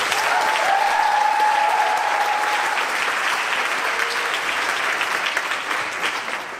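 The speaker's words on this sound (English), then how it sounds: "Can we have a round of applause, please?" An audience at a choral concert gives a round of applause, a full, steady burst of clapping that fades slightly toward the end, with no talking.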